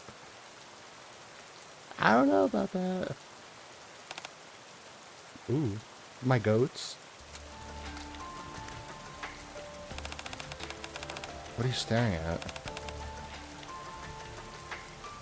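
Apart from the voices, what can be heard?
rain falling in the video game NIKKE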